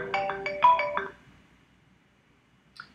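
Outgoing call ringback tone in the Bria softphone app on a phone, a short burst of close, clear electronic ringing tones that stops after about a second, leaving near silence and a faint click.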